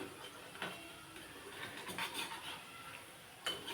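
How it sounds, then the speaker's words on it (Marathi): Chana dal spinach bhaji dropped into hot oil and frying, a faint steady sizzle with light clinks and scrapes of a utensil against the pan, a louder clatter near the end. "भजी टाकून घ्यायची आता आणि गॅस फुल करून"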